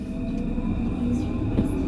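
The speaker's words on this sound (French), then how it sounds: "le métro s'ouvre, je laisse les gens descendre et j'entre dans le métro" Paris metro train standing at a station, a steady low rumble and hum of the carriage filling the space, with faint background voices of passengers.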